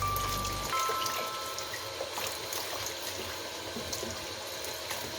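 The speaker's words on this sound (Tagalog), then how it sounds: "So I'll go for another rinse para banlawan ulit." Water runs steadily from a tap over apples, cucumber and celery being rinsed a second time after a baking soda wash, a continuous close splashing rush with no talk.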